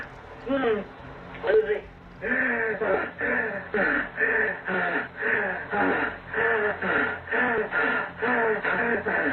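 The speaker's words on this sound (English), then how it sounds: "That's the guy breathing." A man's breathing comes through a radio as a steady run of rhythmic, raspy breaths, thin and tinny from the radio, repeating evenly and fairly loud.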